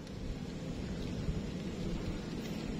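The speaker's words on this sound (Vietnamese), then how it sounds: "Mưa tới rồi." Rain and a thunderstorm during a storm, a soft continuous hiss of rainfall mixed with low distant thunder rumble, faint and steady with no voices.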